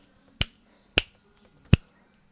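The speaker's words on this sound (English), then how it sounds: "you can hear my snap all the way around" Three sharp, crisp finger snaps around an omnidirectional microphone, evenly spaced about half a second apart, close and distinct against near silence.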